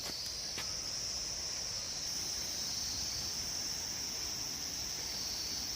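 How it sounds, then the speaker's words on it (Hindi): Crickets and insects in a park chirp and buzz in a continuous high, steady drone over soft background hiss, with a faint tick near the start and no talking. "कीड़े गूंज रहे हैं।"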